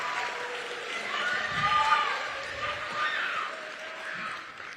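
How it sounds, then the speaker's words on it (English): Audience applause in a hall at a school district spring band concert, a sustained, moderate patter of clapping that swells slightly midway, with some crowd murmur. "So if you give them a round of applause for their award."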